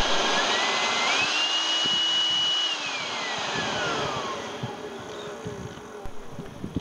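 A steady small electric leaf blower whine runs loud for a few seconds, then pitch drops as it winds down, leaving a softer airy hiss.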